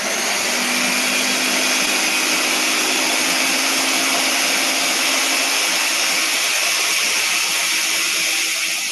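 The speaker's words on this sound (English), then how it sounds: "and then I'm about to turn on the blender." A kitchen blender runs on a healthy dessert mixture: a loud, steady motor whir with a grinding hiss that holds without a break, and no voices.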